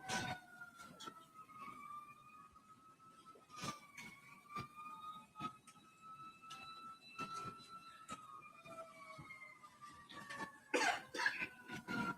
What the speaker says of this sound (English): A lot of sirens. That's going to be a fire truck.